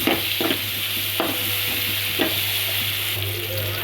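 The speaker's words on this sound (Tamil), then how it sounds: "ரெண்டு பச்சை மிளகாய் போட்டுக்கலாம்." Green chillies frying in a pan for a Tamil sundakkai vathal kara kuzhambu, giving a steady close sizzle with a few sharp spatter bursts and a low hum beneath, no voices.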